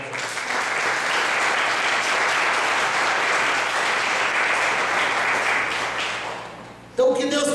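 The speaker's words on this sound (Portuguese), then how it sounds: "Vamos dar uma salva de palmas para Jesus" A church congregation gives a sustained round of applause for Jesus, dense even clapping that holds for about six seconds, tapers off, then gives way to someone speaking.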